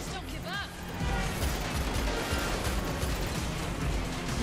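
Dense, rumbling gunfire and explosions from The Matrix Awakens game demo roar continuously at a moderate level, with a brief whooshing effect near the start.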